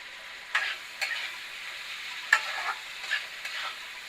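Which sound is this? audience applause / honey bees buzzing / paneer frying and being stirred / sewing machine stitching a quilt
paneer frying and being stirred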